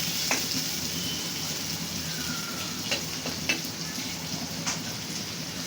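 Shrimp frying in hot oil, a steady moderate sizzle with a few faint clinks from the pan, heard close and without voices.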